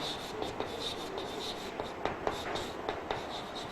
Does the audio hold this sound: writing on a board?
yes